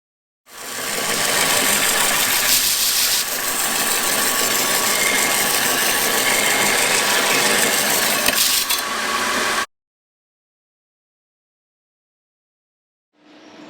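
Steel base plates are cut in a fabrication workshop, a loud, harsh, continuous cutting roar that runs for about nine seconds. It stops abruptly into silence, and a brief burst starts again at the very end.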